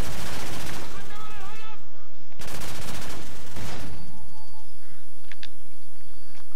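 Gunfire in the video game Call of Duty 4 Modern Warfare crackles in loud, dense bursts of rapid shots, close and clipped, fading out toward the end as a few faint game sounds remain.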